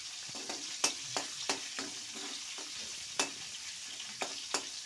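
Cumin, mustard seeds and chopped green chillies hit hot oil for avarekalu uppittu, giving a steady close sizzle broken by sharp scattered pops and crackles.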